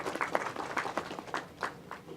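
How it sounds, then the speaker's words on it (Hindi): Audience applause welcoming the secretary at a National Water Mission workshop on water audits: a brief, fairly faint patter of scattered claps rising and falling in quick bursts, with no voices over it. "एक बार जोरदार तालियों से आपका स्वागत करिए।"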